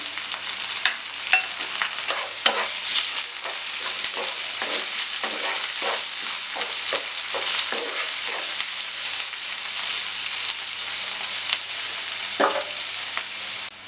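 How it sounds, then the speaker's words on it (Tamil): Onions and kale stems sizzle steadily in a hot pan, a dense crackling hiss punctuated by occasional scrapes and clinks of stirring. "வெங்காயம் கொஞ்சம் வதங்கின பின்னாடி இந்த தண்டை நம்ம போட்டுக்கலாம். அதுவும் வந்து இதோட ஃப்ரை ஆகட்டும்."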